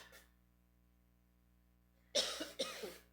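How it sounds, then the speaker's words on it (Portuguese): After a long quiet stretch, a person coughs several times in quick, harsh bursts close to the microphone. "Eu vou tossindo, vocês vão prestar atenção"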